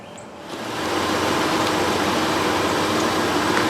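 2007 Buick Lucerne with the 3.8 engine, stalling fault suspected in the crankshaft position sensor, cranks briefly then catches and settles into a steady, even idle hum close by.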